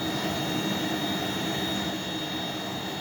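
A forge roars steadily while a steel blade, forged from car shock absorbers, heats toward about 1500 degrees Fahrenheit; a dense, constant broadband rush with no break for the full three seconds, with no voices.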